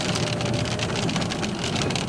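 Rain pours steadily on a car during a road trip, a dense, even hiss of drops close by that continues without a break and with no talk over it.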